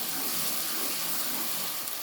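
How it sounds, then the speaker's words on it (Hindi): Chicken mince and chillies frying in a pan, a dense continuous sizzle with steady hiss throughout and no talking. "थोड़ा सा मिर्च और भून लूँगी"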